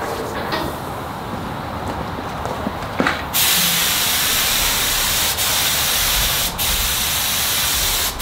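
Spray gun laying black 2K paint onto a trailer, a loud continuous hiss that starts abruptly a few seconds in after quieter handling noise and dips briefly twice as the trigger is released.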